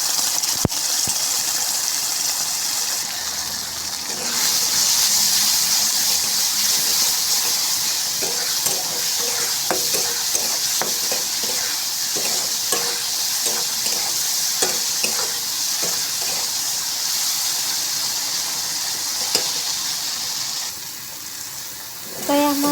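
A paste of ground cumin, ginger, black pepper, green chili, turmeric and salt fries in a pan with a steady, close sizzle and repeated stirring scrapes, continuing for about twenty seconds before tailing off.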